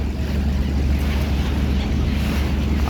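Boat ride on the river at Varanasi, with a steady low rumble of the boat and water and wind buffeting the microphone throughout, loud and continuous with no clear voices.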